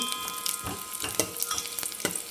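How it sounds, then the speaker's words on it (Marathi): Dry fruits and grated fresh coconut frying in melted ghee, making a steady close-up sizzle with a few soft scraping stirs and no voices. "तसं तुपामध्ये आपण हे टाकलेलं आहे ड्रायफ्रूट आणि ओला नारळ हे छान आपण फ्राय करून घेऊ"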